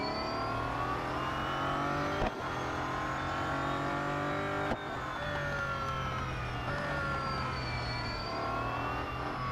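Race car engines in the racing video game Real Racing 3 whine and rev while drafting closely, their pitches rising and falling over each other in a continuous loud drone.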